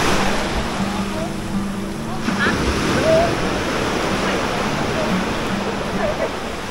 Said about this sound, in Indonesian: Ombaknya di sini.